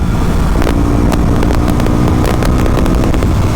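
A KTM Duke 125 motorcycle rides on at steady speed, its engine drone close and loud under heavy wind rush that fills the whole stretch.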